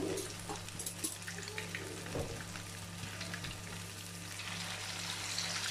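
Finely grated, thin potato galettes fry in a pan with a steady, close sizzle that holds throughout, along with a low hum and a few faint scrapes.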